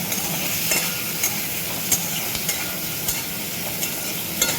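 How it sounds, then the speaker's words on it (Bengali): Potatoes frying in a pan with salt and turmeric are stirred with a utensil: a steady close hiss of sizzling oil, punctuated by light scraping taps every half second or so, with no talk. "আবারও আমি নুন আর হলুদটা দিয়ে নেড়ে চেড়ে নিলাম"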